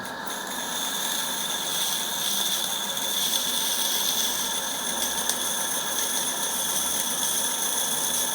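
An Accucraft Ruby 45mm live steam locomotive running under full steam pressure: a continuous close hiss of steam layered with a steady mechanical whir and faint ticking, with no talk.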